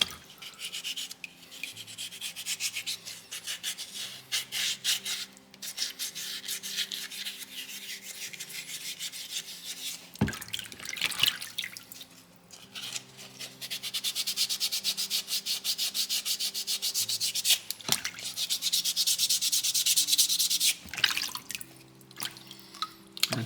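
A soapstone owl carving is sanded by hand with sandpaper, giving steady close rubbing and scraping strokes that run continuously, with a couple of brief sharp knocks and a louder, faster stretch of sanding toward the end.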